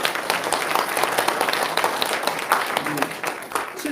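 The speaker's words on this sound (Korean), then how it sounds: "우리 박수 한번 칠까요?" A lecture audience claps together, a dense burst of applause that holds steady for a few seconds, mid-distance and fairly loud.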